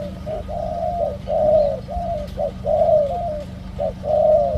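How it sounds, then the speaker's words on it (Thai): A dove repeats drawn-out, mellow coos in a steady rhythm, close and clear over a low background hum. "คูยาวนะนกตัวเนี้ย"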